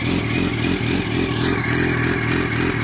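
A 2006 Suzuki GSX-R 750 or 2005 Yamaha R1 sport bike with a cam and quick shifter idles loudly and steadily up close, its rough lumpy engine note running without pause.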